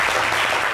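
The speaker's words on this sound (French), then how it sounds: "On applaudit pour elle." Studio audience claps in a dense, steady burst throughout, with no voices rising above it.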